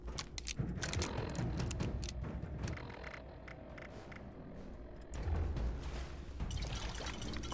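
Water pours and splashes steadily in Fallout 76 as it is collected, with small metallic clinks and rattles over a continuous low rumble.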